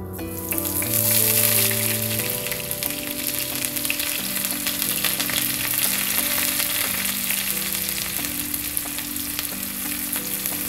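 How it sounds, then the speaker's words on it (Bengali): Sliced onions frying in a generous amount of hot oil for biryani beresta, a dense, even sizzle holding steady throughout, with music playing underneath. "এরপর আমি একই তেলে পেঁয়াজ বেরেস্তা করব"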